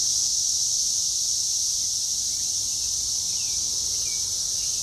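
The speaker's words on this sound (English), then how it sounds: "All those crazy cicadas." Brood X periodical cicadas chorus in the woods with a dense, loud, unbroken buzzing drone that fills the whole stretch, with no voices.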